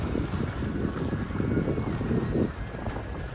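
Sailboat Freedom running along the Lake Michigan shoreline between Northwestern and Montrose Harbor, with steady wind buffeting and rushing water under the hull, continuous and fairly loud with surging swells.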